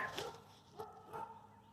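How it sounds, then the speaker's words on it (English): Neighbor's dogs barking at a distance outdoors, a few faint muffled barks spread across a short stretch with quiet between them. "I tried to bribe the neighbor's dogs to be quiet a little bit with some treats"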